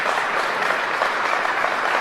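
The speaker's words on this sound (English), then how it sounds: "I'm pretty sure the handful is clapping behind you." Crowd at a political rally in Hamilton clapping steadily, a dense even wash of applause for a couple of seconds with no voices on top.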